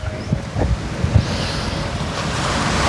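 Wind gusts buffeting the microphone at the seashore where fishermen ready nets for going out to sea, steady low rumble with surf and occasional thumps, no talk.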